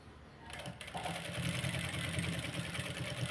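Sewing machine running steadily as it stitches along the edge of a piece of cloth, a fast continuous mechanical whir that starts softly and holds close and even.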